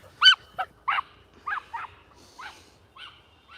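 A dog gives a string of high-pitched barks and yelps, about eight short bursts spaced irregularly over a few seconds. It is close and clear against a quiet outdoor background, with other dogs nearby on a walk.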